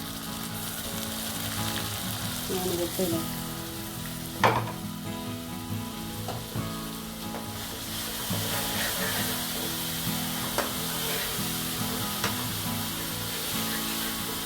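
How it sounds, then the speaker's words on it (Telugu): Ginger-garlic paste and onion paste frying in a pan for mutton curry give a steady, close sizzle with occasional stirring scrapes and one sharp clink, no talking. "అల్లం వెల్లుల్లి పేస్ట్ ఉల్లిపాయ పేస్ట్ ఇదంతా వేసుకొని అది కూడా పచ్చివాసన పోయేంత వరకు ఫ్రై చేసుకోవాలి"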